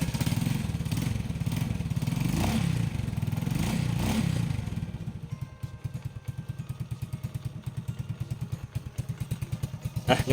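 A used motorcycle engine revs loudly and roughly for several seconds, then drops to a steady, rapid chugging idle with a clattering mechanical rhythm, heard close up with no talking.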